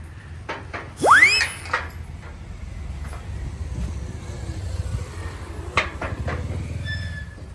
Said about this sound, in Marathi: मी तुम्हाला गेट खोलून देतो.